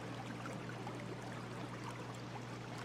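A flowing stream babbles and trickles steadily at a low level, a continuous soft wash of water with a faint low hum running underneath.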